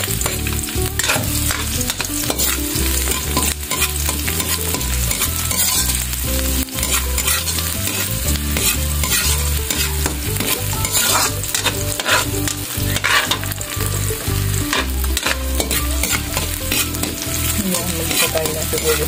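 Onion and garlic sautéing in a pan give a loud, continuous sizzle with constant stirring and frequent clattering utensil scrapes throughout; no talking.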